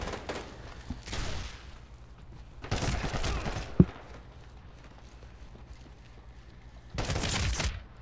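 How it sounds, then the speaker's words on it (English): Gunfire bursts from the Medal of Honor Warfighter video game, several loud rapid volleys separated by quieter stretches, with one sharp single shot in between. "I saw him creep out, and I shot the ever-living stuff out of him"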